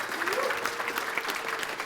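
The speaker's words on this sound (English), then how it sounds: "Give yourselves a huge round of applause." An audience in a live real-estate education seminar room applauds with dense, steady clapping for about two seconds, loud and continuous with no speech over it.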